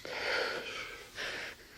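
A short, wet sniffle from an actress crying offstage behind a sitcom scene, two breathy nasal bursts close to the microphone with a brief pause between them.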